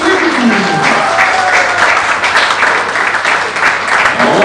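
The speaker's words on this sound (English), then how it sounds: "with a big applause from India" Loud, sustained applause from the Indian crowd at the 2022 WSPS World Championships in Al Ain during the men's 10m air pistol SH1 event, with a voice faintly heard under the clapping.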